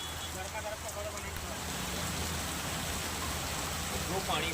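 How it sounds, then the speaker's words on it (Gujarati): Heavy rain pours down over Vadodara city, a steady, loud hiss of falling water that thickens slightly toward the end, with a faint low rumble beneath. "વડોદરા શહેરમાં ધોધમાર વરસાદ રાત્રિથી જ પડ્યો"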